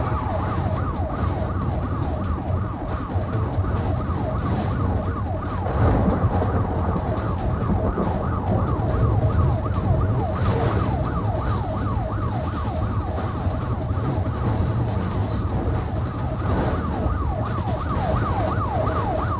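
Several police car sirens wailing continuously in the racing video game NFS Most Wanted Redux, layered cycling tones over a constant engine roar, loud and sustained throughout.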